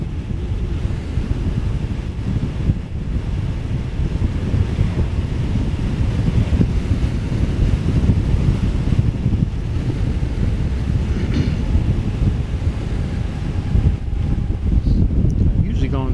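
Zero SR electric motorcycle riding a curvy mountain road near Hanging Rock, North Carolina, heard as steady, loud, roaring wind buffeting the microphone throughout, with no engine note standing out.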